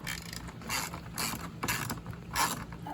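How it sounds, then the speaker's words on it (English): Ratchet on an extension working loose a bolt on a 2017 Honda Rubicon 500 ATV during a fuel pump change: quick, close, rhythmic metallic clicking in several short bursts, with no voices. "Average size ratchet and extension. We're going to take out this bolt right here"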